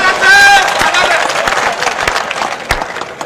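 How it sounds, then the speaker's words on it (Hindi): Audience at a Hindi stand-up comedy show breaking into loud, close applause, a dense burst of clapping that gradually thins out over a murmuring crowd. "समझ में आ रहे हो तो ताली वाली बजाते रहना"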